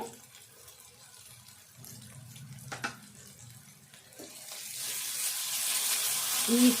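Onions and green chillies fry with ginger garlic paste in a pan, a soft sizzle with a few utensil clatters that swells into a louder, steadier hiss toward the end.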